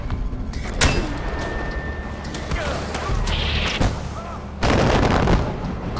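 Machine gun fire in the Far Cry 4 video game: a few loud, sharp bursts of gunfire crack out over a busy game soundscape, with a longer dense burst near the end.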